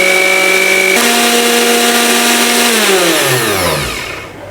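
A 200-watt juicer blender motor under repair runs loud and steady with a strong whine, then is switched off and spins down, its pitch sliding lower over the last second and a half as it fades.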